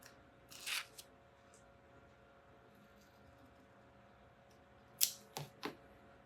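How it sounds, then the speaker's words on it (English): Scissors cut tape on a 2019 Aprilia Tuono RSV4 in a quiet workspace: a few faint, sharp snips, one early and a quick cluster of three near the end. "I'm going to grab a scissors so I can cut that out"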